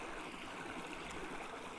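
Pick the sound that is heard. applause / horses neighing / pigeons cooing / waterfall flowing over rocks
waterfall flowing over rocks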